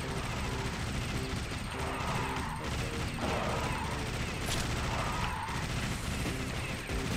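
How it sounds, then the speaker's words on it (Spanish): Machine gun fire in the video game Alien Shooter, a steady dense wall of rapid shots and blasts that fills the whole stretch at constant loudness, with a voice talking faintly underneath. "A la ametralladora, a ver."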